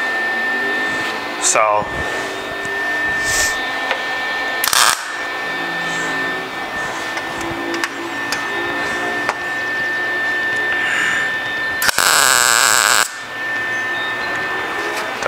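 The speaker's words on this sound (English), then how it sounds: "since we're just spot welding these holes, I want to make sure it penetrates good" Spot welding to plug holes in a custom truck bed on a bagged minitruck, with a steady buzzing arc running through most of the stretch and a few short, louder crackling bursts, while a voice speaks briefly over it.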